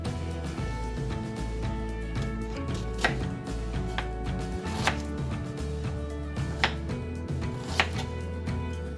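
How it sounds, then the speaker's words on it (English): A knife slices a purple onion very thinly on a board, giving a series of short, sharp chops spaced a second or two apart over steady background music. "I'm gonna go ahead and cut my purple onion"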